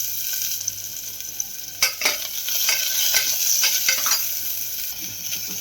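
Cinnamon, fennel, crushed garlic and shallots sautéing in hot oil for a mutton soup, a steady light sizzle with a few brief clinks of a spoon stirring the pan, no voices.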